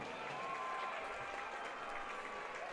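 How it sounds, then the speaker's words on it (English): Crowd applause at a high school football game between Emmaus and Easton, a steady, distant wash of clapping and crowd noise from the stands that holds evenly throughout. "One more round of applause"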